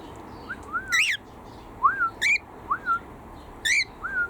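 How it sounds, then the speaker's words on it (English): Pet cockatiel in an aviary gives repeated rising whistles and sharp chirping calls, close and clear in short bursts spaced about a second apart. "You're gonna do lots of whistling and calling today."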